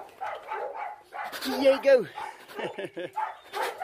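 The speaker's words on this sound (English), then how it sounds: "These dogs can make a noise." Several dogs bark, yip and whimper close by in quick bursts, with a high whine among them, while a person speaks briefly.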